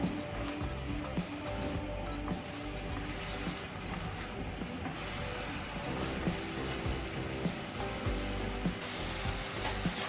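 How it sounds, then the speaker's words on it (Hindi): Okra and spices sizzle steadily in a hot frying pan, close and continuous, with soft scraping from stirring mixed through the hiss. "अब हम इन तमाम मसालों को आपस में मिक्स करेंगे"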